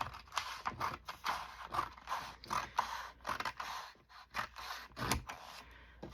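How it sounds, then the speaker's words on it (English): Material being cut down to about an inch, giving a string of crisp snipping and mechanical clicking strokes at close range, repeated steadily with short pauses between cuts. "I'm just going to cut it down to about 1 inch here."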